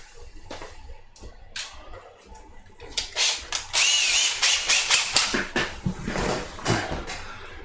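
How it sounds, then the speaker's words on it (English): A handheld power drill whirs in short bursts, grinding into plastic with a rising, rasping bite, the bursts growing louder and more frequent toward the end. "Let me just grab my drill bit and a normal hand drill."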